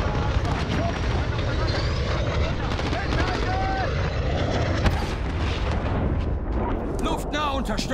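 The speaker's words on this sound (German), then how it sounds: "Feindlicher Clusterschlag im Anflug." Enemy cluster strike in Call of Duty: Modern Warfare, a sustained roar of rumbling explosions and aircraft noise with sharp cracks near the end, loud throughout, with radio voices faintly mixed in.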